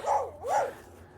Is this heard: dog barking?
yes